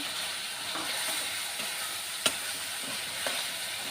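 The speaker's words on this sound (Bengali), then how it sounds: "মশলাটা আমি কষে নিলাম কষি সজনেটা আমি দিয়ে দিলাম" Drumsticks and spices (chili powder and cumin) sizzle steadily while stir-fried in a pan, a constant close frying hiss with a couple of faint scrape clicks from stirring.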